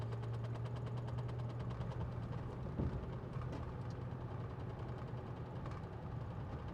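Honda Ridgeline with 306k miles shakes and vibrates under throttle, a steady low engine drone with a rough, knocking pulse, close and moderately quiet, with no voices.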